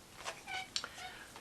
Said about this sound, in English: Excuse my cat.